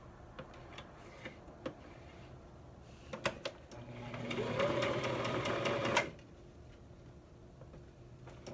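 A sewing machine stitches denim at a zipper, starting with a few clicks and taps from repositioning the needle, then running in one steady, fairly close whir for about three seconds before stopping abruptly.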